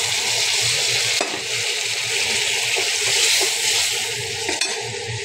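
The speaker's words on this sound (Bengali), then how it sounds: "পরিমাণ মতো এবার আমি জল দিয়ে দেবো।" Hot water poured from a pressure cooker into a pot of frying prawn and taro curry, a loud close rushing hiss and sizzle with light clinks of the cookware, steady throughout without speech.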